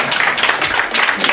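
Congregation applause at a Sunday high school worship service welcoming new praise team leaders, a short, close burst of many hands clapping in an even, continuous patter.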